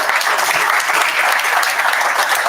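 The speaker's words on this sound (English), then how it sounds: "can you give a big round of applause for Erminio?" An audience at a business seminar in Arlington, Texas, applauds in a steady, loud, close wash of clapping hands that continues evenly without a break.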